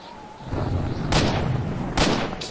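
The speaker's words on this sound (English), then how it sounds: "They just shot me." Gunfire in the video game Z.O.N.A Shadow of Limansk Redux: a few loud, sharp shots with broad bursts around a second apart, near and echoing, over game ambience.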